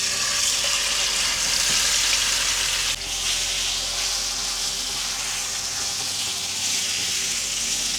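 Tofu fries in hot oil in a pan, giving a continuous, dense sizzle with crackling that holds steady throughout, close and loud.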